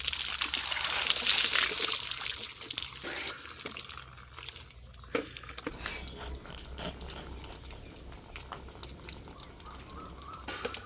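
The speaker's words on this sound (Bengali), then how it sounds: "আজকে স্নান করছি টিউবওয়েলের জলে" Water from a tube well splashes and trickles during an outdoor bath in a quiet village setting, a steady close pouring with splashes that eases into softer dribbling, with faint background noise.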